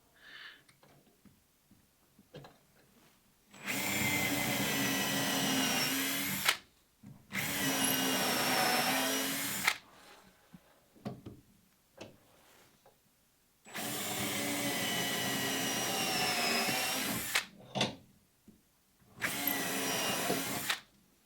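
Four bursts of a power drill whirring at high speed, drilling depth-set screw clearance holes in a wooden boat's sheer, each lasting a few seconds, separated by short pauses with light handling clicks.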